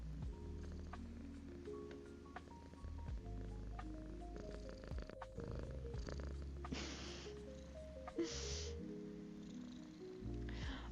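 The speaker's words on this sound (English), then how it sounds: "You can hear him purring." A cat purring close by, a steady low rumbling throb that continues under soft background music, with no talking.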